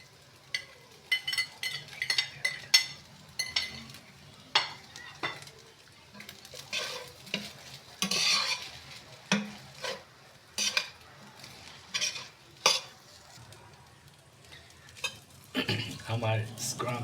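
Scrambled egg being stirred into smoky-flavour noodles in a pan, with repeated scraping and clinking strokes of a utensil against the pan in uneven bursts over a soft sizzle, and a voice speaking between strokes.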